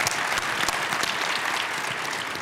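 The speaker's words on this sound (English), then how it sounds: "a round of applause." An audience at the Sustainable Denver Summit claps in a dense, steady round of applause, moderately near and continuous throughout.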